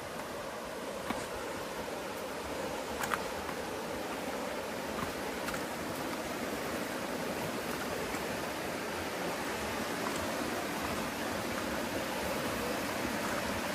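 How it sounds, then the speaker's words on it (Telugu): A stream flowing beside a camp in the Amazon jungle, a continuous even rush of water that holds steady for the whole stretch, with no voices over it. "సో పక్కన మీకు సెలయేరు సౌండ్ శబ్దం వినిపిస్తుందా?"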